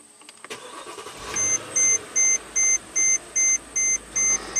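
A Mercedes GL450 engine cranks and catches, settling into a low steady idle while a regular electronic beep repeats about every half second over it.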